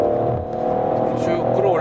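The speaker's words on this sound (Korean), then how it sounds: "쭉 끌어올리고요. 시속 100km에 맞췄습니다." A Peugeot 5008 SUV with the 1.2 PureTech engine accelerates toward 100 km/h, heard from inside as a steady, moderately loud engine drone with a faint rise in pitch.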